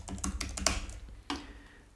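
Brisk typing on a computer keyboard, a run of close, light key taps followed by a pause and one more short burst, with no talking.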